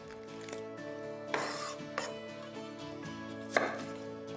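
A knife chopping a medium onion into half rings on a board, with a few distinct sharp cuts spaced unevenly over a soft background hum.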